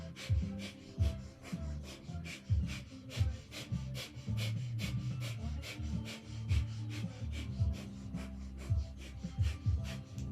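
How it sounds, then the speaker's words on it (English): Breath of fire during a yoga class: quick, forceful nasal exhalations pump in a steady rapid rhythm, a few per second, close and continuous for the whole stretch over a faint room hum. "beginning with the breath of fire or long deep breathing"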